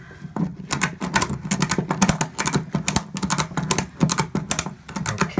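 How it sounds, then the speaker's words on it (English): A ratchet strap is cranked tight over a trailer load, producing rapid bursts of loud, close clicking in uneven runs, with short pauses between strokes. "once it's tight, then we can start to do the ratcheting"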